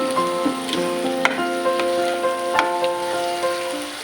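Potatoes added to a shrimp stir-fry for an Aceh-style dish sizzle and crackle loudly in the hot pan, with sharp pops and spatters over a steady frying hiss and no talking.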